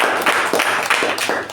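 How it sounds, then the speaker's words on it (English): Scattered clapping from a small audience at a Toastmasters club meeting, a loose, uneven patter of hand claps recorded close by. It lasts only a moment and there is no talk. "So give her a huge round of applause."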